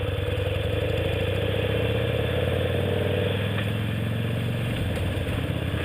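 A motorcycle engine runs steadily at a constant low drone, close and loud, without a break or change in pitch, with no voices.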